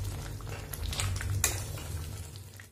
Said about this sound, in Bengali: এখন পনির দিয়ে দিচ্ছি, ভালো করে নেড়ে নামিয়ে দেবো।